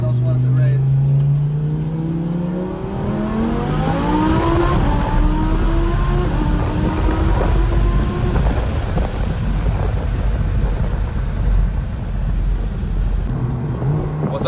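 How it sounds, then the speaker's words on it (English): A 900hp twin-turbo Audi R8 accelerates hard, its engine note climbing through the gears and then settling into a loud, rumbling roar at speed, with voices talking inside the cabin. "First time in Johnny's twin turbo R8. It's pretty quick"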